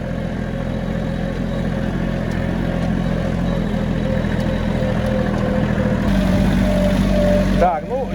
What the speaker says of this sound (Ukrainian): І Ось я купив фрезу і газую прямо до нього.